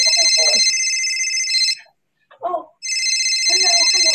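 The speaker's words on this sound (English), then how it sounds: "somebody is calling me on my other phone." Telephone ringtone on a second phone, loud electronic ringing in two bursts separated by a short pause, with a voice speaking briefly between and under the rings.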